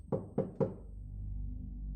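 Three sharp knocks on a door come in a quick, even series near the start, followed by quiet room tone.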